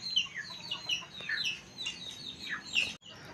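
Small chicks peep and cluck in a rapid run of short, high chirps that carry on steadily, fairly close, with soft background noise and no talking.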